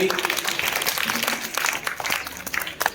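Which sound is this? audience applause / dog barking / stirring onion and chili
audience applause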